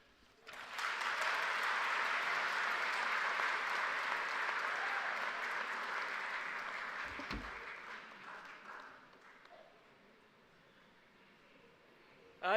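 Graduation audience applauding after an address: a crowd's clapping swells in quickly, holds strong and steady for several seconds, then gradually thins and fades away before a sudden sharp sound at the close.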